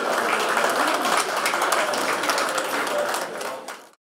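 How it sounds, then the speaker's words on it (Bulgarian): Audience applause at a homemade wine contest in Asenovgrad during an award presentation, a dense steady wash of clapping that holds for several seconds before fading out at the end. "Аплодисменти още веднъж!"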